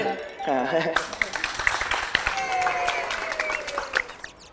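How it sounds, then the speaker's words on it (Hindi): Crowd clapping on a Hindi television episode set before a kabaddi match, a dense patter of hands mixed with musical tones and sound effects, fairly loud throughout. "ताली बजाइए।"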